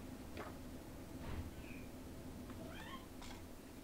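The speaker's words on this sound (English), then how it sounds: "Yeah, I hear you, kitty." A house cat meows several times in a quiet kitchen, faint, short rising calls spread across a few seconds against low background noise.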